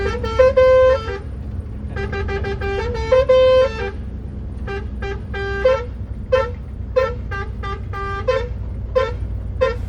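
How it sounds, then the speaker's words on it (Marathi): A truck's horn blares repeatedly on a highway stop, two long blasts followed by a run of short rhythmic toots, loud and close over a low engine rumble. "आमचं हॉर्न टेस्टिंग आणि चालूच बघा 1 नंबर मध्ये"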